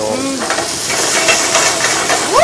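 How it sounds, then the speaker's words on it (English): Shrimp hit a hot pan in a restaurant kitchen, setting off a loud, dense sizzle and hiss that swells slightly toward the end, with faint utensil scrapes mixed in. "Then we put our shrimps, get a nice, going into our pan"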